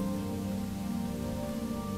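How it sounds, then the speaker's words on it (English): Steady rain dripping and pattering on a surface, even and continuous over a low droning tone, fairly quiet with no voices. "He sat down as the rain dripped through the ceiling and stared onto the moon."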